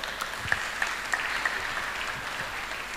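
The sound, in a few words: applause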